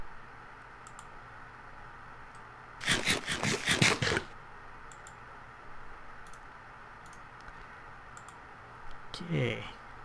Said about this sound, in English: I have to do a little shift clicking here, which could be tricky